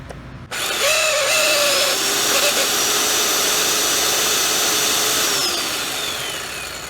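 A Black & Decker electric trimmer/edger runs steadily for several seconds, a loud continuous motor whine with a slight pitch drift, alone without talk, easing off slightly near the end.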